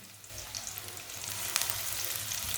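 Finely chopped onion with whole cumin and coriander seeds fries in oil or ghee, a soft steady sizzle with faint crackles and one brief sharper pop partway through.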